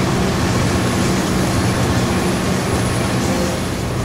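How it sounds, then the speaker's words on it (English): A freight train climbs a mountain grade, its dense, continuous mechanical roar and rumble staying loud and steady from start to finish with no voices. "Josiah and Will were pulling a freight train up the mountain."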